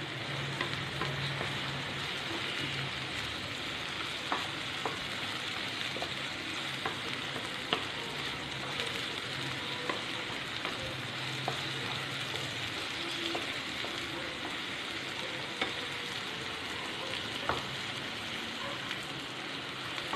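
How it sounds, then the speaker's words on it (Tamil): Citron (narthangai) pieces sautéing in oil in a pan for a pachadi, a steady loud sizzle and frying crackle throughout, with occasional stirring scrapes, close and without talk. "இந்த நார்த்தங்காய் வந்து நல்ல நேரம் மாறி வரது வரைக்கும் இத வந்து வதக்கிக்கிடணும்"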